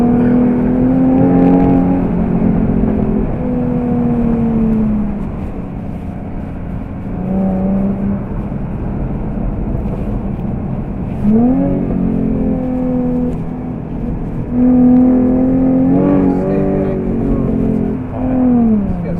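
A 2013 Jaguar F-type with a 3.0 litre V6 accelerates hard to overtake, heard from inside. The engine rises through several gear changes, loud and continuous, with the note climbing and dropping repeatedly.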